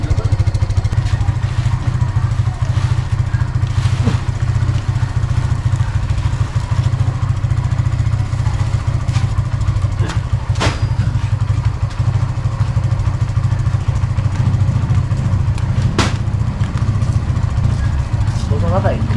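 Motorcycle engine idling steadily nearby at a Philippine farm during a delivery of fertilizer sacks, a constant low throb with occasional clatter, while people talk over it.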